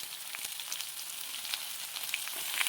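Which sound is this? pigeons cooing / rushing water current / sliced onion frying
sliced onion frying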